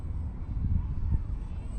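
A small LDARC Tiny Wing 450X RC foam flying wing passes with a steady low propeller drone, blended with wind buffeting on the microphone and swelling slightly as it comes close.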